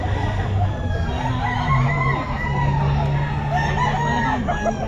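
A Boston rooster crows at a busy outdoor pet market, its drawn-out call rising over steady crowd chatter and background bustle.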